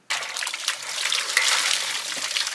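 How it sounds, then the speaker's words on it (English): Fresh mountain water gushes steadily from a pipe at a village on Marovo Lagoon, Solomon Islands, a close, continuous splashing hiss that starts abruptly and holds with slight fluctuations. "Fresh water from the mountain, pipe it across this seawater"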